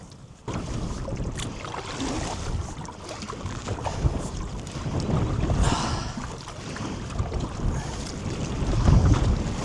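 Gusty wind buffets the microphone on a canoe trip across open water on the Norfolk Broads, a loud, continuous roaring rumble that swells and eases in waves throughout.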